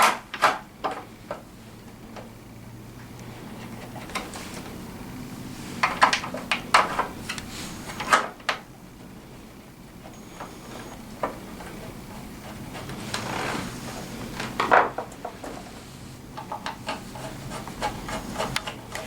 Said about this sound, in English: All you want to do is just go to both sides and tighten these 4 nuts down.